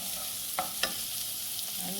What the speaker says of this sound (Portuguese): Eu já coloquei a cebola, agora vamos colocar o alho. Vou deixar fritar também.